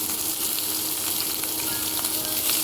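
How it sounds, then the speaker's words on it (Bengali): Chopped onions hiss and crackle in hot oil after fried potatoes are lifted out, a bright steady sizzle with faint pops, close and alone without any voices. "এবার আমি পেঁয়াজটা দিয়ে দিচ্ছি।"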